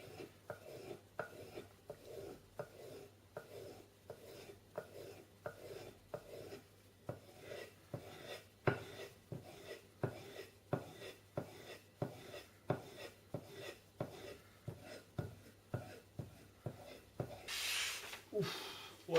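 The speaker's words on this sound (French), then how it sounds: "Ça s'affûte comme du beurre" A metal file rasps repeatedly along the edge of a paddle, steady back-and-forth strokes at an even rhythm for most of the stretch, close and moderately loud, ending in a brief burst of noise.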